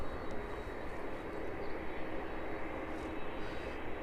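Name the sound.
aircraft arriving at East Midlands Airport from Edinburgh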